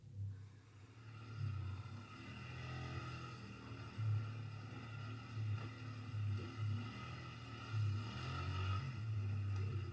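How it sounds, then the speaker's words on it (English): A quad bike rides along a forest track in Canada, its engine droning steadily with a low rumbling hum throughout, close and continuous, with wind buffeting the helmet-mounted microphone. "shows a ride through the Canadian forest on his quad bike"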